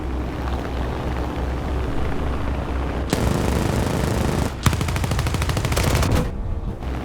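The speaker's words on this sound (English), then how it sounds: "that AA is shooting at me like I'm the high priority threat" Anti-aircraft fire in War Thunder: a dense, continuous rattle of rapid automatic bursts over a low engine drone, loud and close, cutting off briefly mid-way before resuming, with no voices.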